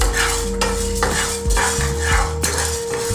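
Chana dal and spices dry-roasting in a pan, stirred with a metal spoon: loud, close scraping and rattling strokes in a steady rhythm against the pan, with no voice over it.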